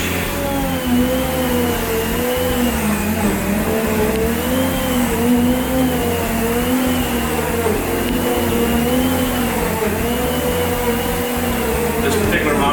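Central vacuum system with a power brush head running on carpet, a steady loud whooshing suction drone with droning tones throughout, a voice talking over it.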